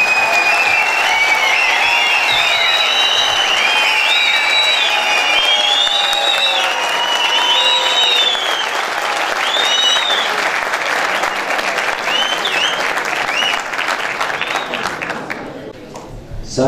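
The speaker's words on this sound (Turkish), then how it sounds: "İncirlova Belediye Başkanımız Kürşat Kale'ye güçlü bir alkış ikram ediyorum." Sustained loud applause from an audience at a Turkish nationalist community evening in Didim, honoring İncirlova mayor Kürşat Kale, dense clapping with faint tonal music above it, thinning out near the end.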